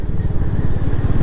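A Royal Enfield Hunter 350 motorcycle is ridden in fifth gear, its single-cylinder engine thumping in a loud, close, steady rhythmic drone.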